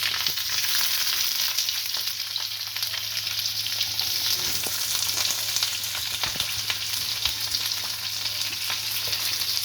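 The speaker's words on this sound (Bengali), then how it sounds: "পেঁয়াজটাকে দিয়ে আমি একটু সামান্য ভেজে নেব" Chopped onions frying in oil with chana dal for dosa chutney, a steady close crackling sizzle throughout with occasional stirring scrapes, no voices.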